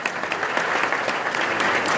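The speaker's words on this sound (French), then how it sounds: "Des applaudissements pour lui." Brief, steady applause from a university audience during a rector's speech, welcoming the secretary general with dense, even clapping throughout.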